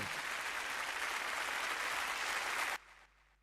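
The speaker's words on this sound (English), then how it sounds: "Can we please give her a round of applause?" Applause fills a hall at a Lagos State budget consultative forum, a dense, steady clapping roar that cuts off sharply near the end, leaving a faint quiet tail.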